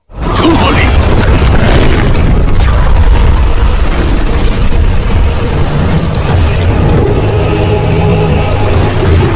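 In an animated Sun Wukong battle, a Western god fires lightning blasts that land as a loud, booming rumble, with a sharp onset followed by sustained crackling roar and deep low-end thunder.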